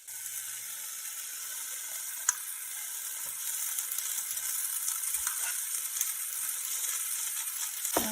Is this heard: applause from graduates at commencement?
no